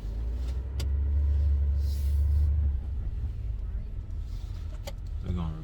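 A GMC Sierra 3500 AT4 pickup truck pulls in on a snowy road, its engine a low steady rumble close by while people talk over it.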